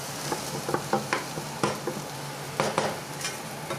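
Eggs sizzle and fry in a hot pan while a utensil stirs and clinks against it, a steady frying hiss broken by irregular scraping knocks, close and fairly loud, with no talking.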